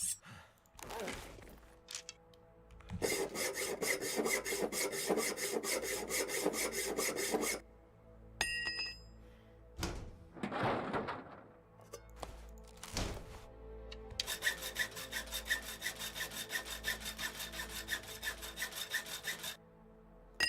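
Hacksaw sawing in the survival video game The Long Dark: two long runs of steady, rhythmic rasping back-and-forth strokes, loud and close, broken by a short pause with a few thunks and scrapes.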